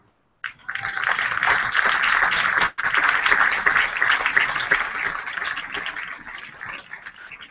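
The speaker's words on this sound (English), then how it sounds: "how about one more round of applause for Tanner and Brad" Sustained applause for award winners at a baseball game in Virginia, broad steady clapping from a large crowd with a brief dip midway before resuming and fading slowly.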